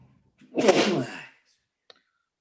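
A single close sneeze, loud and breathy, bursting out for under a second in a quiet online meeting setting, followed by silence.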